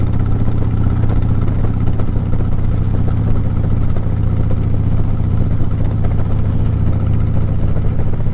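A 2017 Harley-Davidson Road King motorcycle engine runs loud and close with a steady, deep idling rumble that holds unchanged throughout, and no voices.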